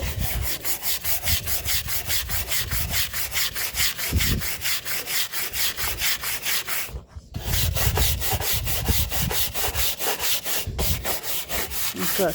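Steady, vigorous scrubbing of a surface before painting during a Taylor Dunn Tea Bird makeover, a loud, close, continuous rhythmic rubbing with fast repeated strokes, pausing briefly twice.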